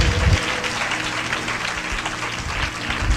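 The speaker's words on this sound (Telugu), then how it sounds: "చప్పట్లతో దేవుని ఘనపరుస్తామా?" A church congregation applauds to glorify God, producing dense, steady clapping from many hands that fills the room without a break.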